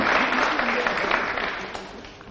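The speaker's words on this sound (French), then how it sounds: "Merci de les applaudir, s'il vous plaît." A television studio audience applauds steadily in a broad, even wash of clapping that slowly fades over a couple of seconds.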